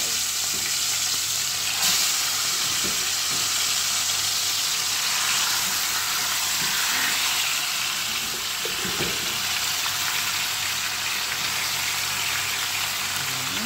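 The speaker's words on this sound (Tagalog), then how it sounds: "ipiprito ko muna siya dito sa aking mantika" Meat fries in hot cooking oil in a pan before being made into adobo, a steady dense sizzle and crackle lasting throughout, close and fairly loud, with occasional soft clinks of stirring.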